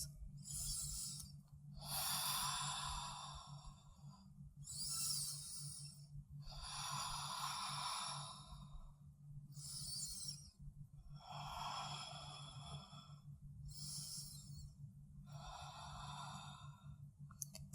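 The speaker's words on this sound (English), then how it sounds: "5 deep breaths." Slow, deep breathing during a seated yoga hamstring stretch, with about seven long, soft breaths spaced evenly over a low steady hum.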